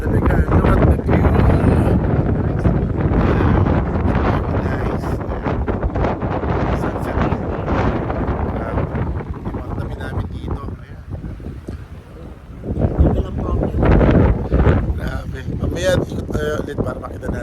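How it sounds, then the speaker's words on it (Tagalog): Strong, cold wind buffets the microphone in continuous heavy rumbling gusts at a hillside viewpoint in Malico, San Nicolas, Pangasinan, with a brief lull before it surges again and voices talk underneath. "Kasi lakas ng hangin."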